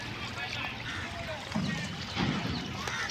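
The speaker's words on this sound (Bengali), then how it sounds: "এই আমরা নৌকাতে উঠতেছি" People board a wooden rowing boat on a river at Keraniganj near Dhaka, with light knocks and shifting on the hull, water and wind noise, and voices talking nearby.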